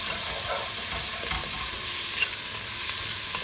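Coriander and onion toasting in a pan for an Indian minestrone soup, giving a close, constant sizzle with light stirring clinks and no voices.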